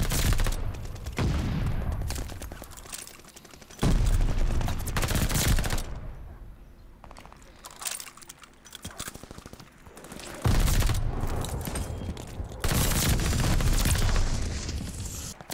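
A PPSh-41 submachine gun in Call of Duty Vanguard fires long sustained bursts of rapid shots, loud and close, with short pauses between runs and fainter scattered gunfire in the gaps.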